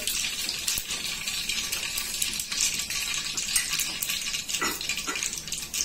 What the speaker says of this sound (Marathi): तेल तापले, फोडणी टाकते. आवाज आला पाहिजे म्हणजे कडक फोडणी बसेल.